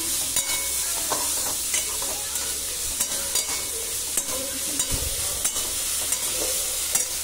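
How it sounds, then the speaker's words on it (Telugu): Mixed vegetables frying in a pan, a continuous close sizzle broken by frequent stirring clicks and scrapes. "సో వీటిని ఒక మూత పెట్టేసి ఫ్రై చేసేసుకుందాం."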